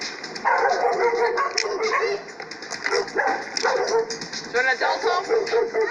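Dog with a fishhook stuck in its nose, heard during an animal welfare call, giving loud, close yips, barks and whimpers throughout while a person talks to it.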